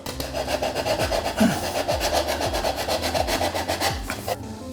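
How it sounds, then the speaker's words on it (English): A knife scrapes burrs from the inside of a pipe for a wall-hung toilet in quick repeated rasping strokes, close and steady, alone without talk. "just make sure you get the burrs out from the inside. I just use a knife."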